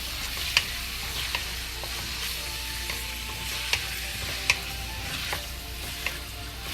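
Thin slices of side pork stir-frying in oil in a pot for a lacinato kale dish: a steady, close broadband sizzle with scattered sharp spatula clicks and scrapes, no voices.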